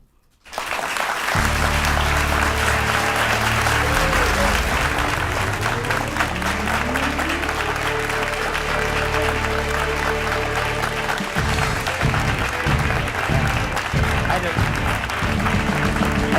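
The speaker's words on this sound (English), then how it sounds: "So I hope you'll join me in one more round of applause." An audience claps loudly and continuously for a retired astronaut's appearance, dense sustained applause filling the room, with a voice speaking over the final seconds.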